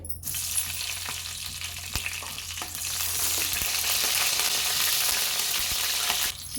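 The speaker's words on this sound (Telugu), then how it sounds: "ఆయిల్ వేడెక్కింది కదండి ఇప్పుడు పచ్చిమిర్చి వేసుకోవాలి" Green chillies sizzle steadily in hot oil in a pan while crab curry is being cooked; a bright, continuous crackle grows louder midway, then cuts off near the end, with no talking.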